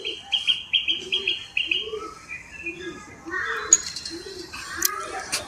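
A teddy pigeon with black eyes calls close by, a series of soft, low cooing pulses repeated at an even pace, with higher chirps from other birds over them.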